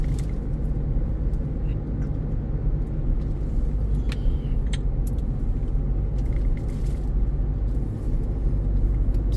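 A car drives steadily along a road from Ban Dai toward Pak Thang Huai Khrai in Chiang Rai, with a constant loud engine and road rumble and a few faint clicks over it.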